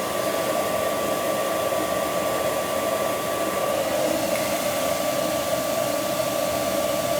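Weil McLain direct-vent gas boiler burner firing just after ignition, a steady close roar with a constant hum running alone throughout.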